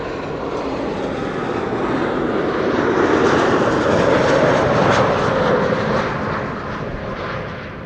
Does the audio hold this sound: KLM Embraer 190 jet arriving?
yes